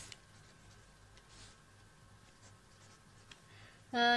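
A pen scratches steadily across paper while a math solution is written out, a faint, continuous scribble with a few soft taps, ending in a sudden louder burst.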